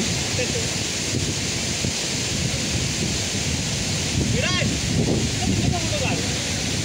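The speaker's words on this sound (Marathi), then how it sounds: "धबधबा एवढा लांब आहे आणि पाणी एवढं जवळ आमच्या इकडे उडतंय" Spray from the Marleshwar waterfall, a continuous loud roaring wash of water and wind buffeting the microphone, with faint voices in the background.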